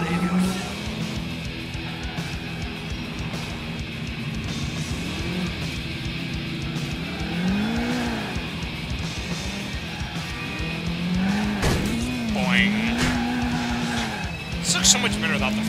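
Car spinning donuts in GTA IV, its tires squealing in repeated looping arcs over a steady engine drone, with people talking and laughing over it.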